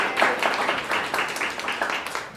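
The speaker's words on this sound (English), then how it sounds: "I'd like to give him a round of applause" A small group of attendees gives a round of applause for a presenter at a leads-to-sales talk, with a brief patter of separate claps at moderate volume, fairly close.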